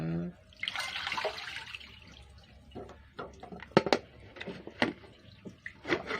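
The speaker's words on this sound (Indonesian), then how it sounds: "Saya pakai saringan ini ya, saringan kelapa ya teman-teman." Water pours and splashes through a coconut strainer over tapioca pearls in a rushing stream, then gives way to scattered drips and clinks as it drains.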